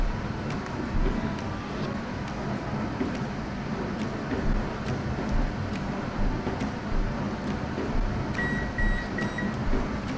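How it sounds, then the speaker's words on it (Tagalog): An oven runs while baking bread pudding, giving off a steady low hum with faint ticking and a short electronic beep near the end. "Ayun na ang aking oven."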